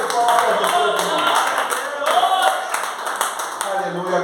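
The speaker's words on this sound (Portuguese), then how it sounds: "Uma salva de palmas para Jesus" Congregation in a church service applauds for Jesus, a dense run of brisk handclaps filling the space with voices and shouts mixed in.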